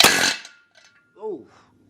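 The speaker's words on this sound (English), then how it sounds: "But then I remembered I got this pneumatic hammer, so which actually works pretty good." A pneumatic hammer knocks bolts out of BMW Style 19 wheels in two bursts: a loud, harsh rattling blast at the start, then a brief second burst after a short pause.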